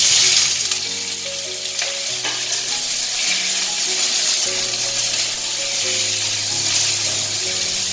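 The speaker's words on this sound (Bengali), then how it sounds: "পনিরগুলো ভেজে নিই।" Paneer frying in olive oil in a home kitchen pan, with a steady, close sizzle and crackle that runs the whole time, plus faint clinks and stirring noises over it.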